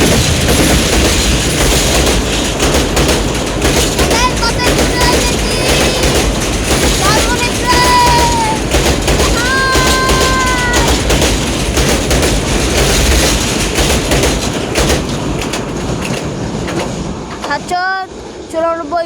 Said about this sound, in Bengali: চুরানব্বই ডাউন লালমনি এক্সপ্রেস ট্রেনটি এখন চলে যাচ্ছে লালমনিরহাটের উদ্দেশ্যে।